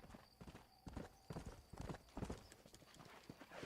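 Video game horse hooves clip-clopping in a steady trotting rhythm, fairly close and clear, with a faint whinny-like tone and no talk over it.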